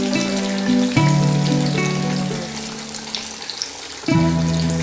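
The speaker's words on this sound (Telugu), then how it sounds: "చూశారు కదా, మన ఫిష్ ఫ్రై" Fish frying in oil for a crispy Telugu-style fish dry fry, a steady close sizzle with broad hiss running throughout, with a louder surge at the start and again near the end, plus a sustained tonal hum underneath.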